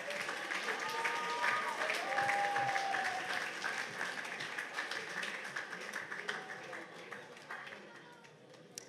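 Audience applause at the Miss Nouvelle-Calédonie 2020 pageant, a steady, dense wash of many hands clapping that swells early and then slowly tapers, with faint voices and a brief tonal sound mixed underneath.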